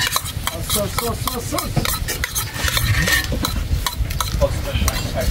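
Sauce being stirred in a pan with a utensil, with scraping and clinking against the metal at a quick, steady rhythm and some sizzling underneath, accompanied by light background chatter and kitchen clatter.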